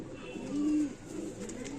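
A summer flying pigeon coos once, a soft low rolling call close by over quiet background hiss.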